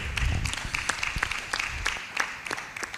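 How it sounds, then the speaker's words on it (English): Applause from an audience at a live-streamed FIRS Nigeria event, a scattered patter of claps that comes through moderately loud for about three seconds, with a few louder individual claps standing out toward the end and some low background murmur. "I am actually surprised that anybody is clapping for you"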